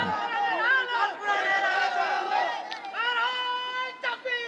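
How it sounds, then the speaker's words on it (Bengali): A large crowd of young men answers a preacher's call with a loud, full-throated takbir chant, voices surging together in sustained waves of shouting that swell and break over several seconds. "দাও তাকবীর একটা দাও"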